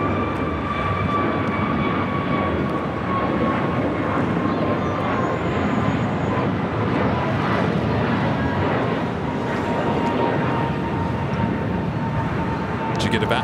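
Korean Air Flight 11, an airliner in from Seoul at LAX, gives a steady broadband engine roar with faint tonal whines, sustained and loud throughout, with a person talking over it.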